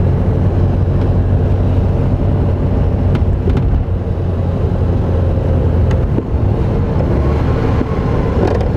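A 1950s Volkswagen Beetle with its 25 horsepower engine pulls along in a lower gear after a downshift, giving a loud, steady, low engine drone with some wind rush and no talk over it.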